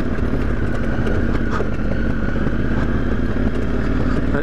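A motorcycle on a ride through the Flinders Ranges climbs a steep hill, its engine giving a constant loud, droning roar close by with no pauses or speech.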